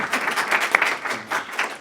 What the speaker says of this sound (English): everybody has to clap right now because this is awesome